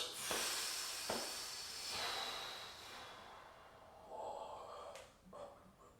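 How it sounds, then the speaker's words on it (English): A slow breath out during a box-breathing exercise, a soft airy rush near the microphone that tapers away, followed by quieter breathy sounds and faint taps. "Breathing out."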